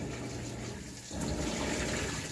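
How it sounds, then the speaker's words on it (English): A Maytag top-loading washing machine without an agitator sloshes water through a wash cycle, a steady churning wash that swells slightly louder partway through, heard close with no talk. "It's not washing your clothes like a normal wash machine."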